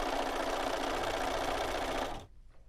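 A sewing machine runs a seam along a fabric strip for a quilt, a close, rapid needle chatter that holds steady for about two seconds and then stops abruptly, leaving near silence.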